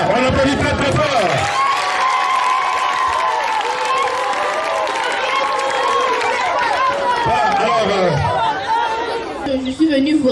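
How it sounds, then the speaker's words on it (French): An audience at a forum theatre performance about tribalism claps loudly, the steady applause mixed with lively crowd chatter and voices over it, fading near the end. "on applaudit très très fort."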